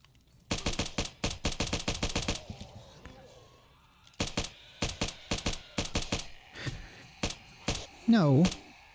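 Gunfire in the video game 7 Days To Die: rapid automatic bursts, loud and close, broken by a short pause before more volleys, with a brief rising synthetic effect near the end.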